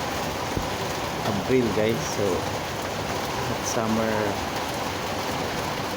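First rain of summer falling, a steady hiss of rain under a voice talking now and then.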